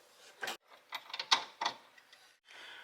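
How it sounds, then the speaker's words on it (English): A ratchet works on the 13mm intermediate steering shaft bolt of a Chevy Corvette, giving several short, close bursts of clicking with brief pauses between them. "I'm going to go ahead and unbolt the actual intermediate shaft off the car."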